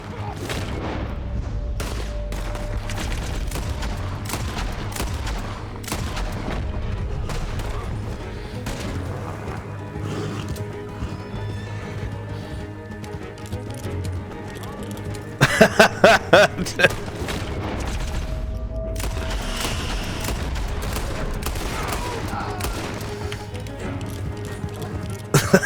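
Gunfire in a shootout in a Western-style video game, with dense bursts of shots over a steady rumble, a sharp cluster of loud cracks midway and more bursts near the end, horse hooves and voices mixed in.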